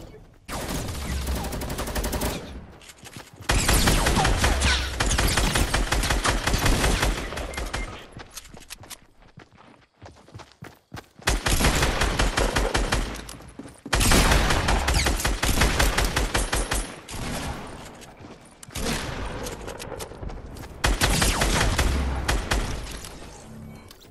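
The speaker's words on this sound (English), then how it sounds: "Oh, someone's shooting from behind." Long loud volleys of automatic gunfire in Fortnite, several sustained bursts broken by short pauses, with a voice speaking at points.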